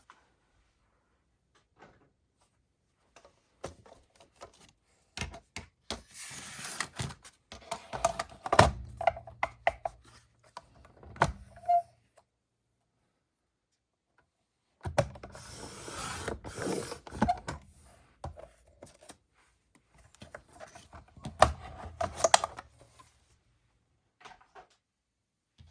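Cardstock being cut with a craft paper trimmer in two separate bursts of close scraping, slicing and clicking, separated by near silence.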